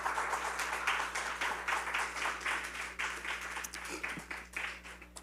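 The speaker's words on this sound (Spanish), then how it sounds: "Denle un fuerte aplauso al Señor." A church congregation clapping for the Lord, with a steady rhythmic pulse of many hands at a moderate level over a constant low hum, lasting throughout.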